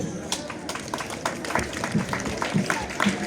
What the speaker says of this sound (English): give a loud applause to all the actors for the job well done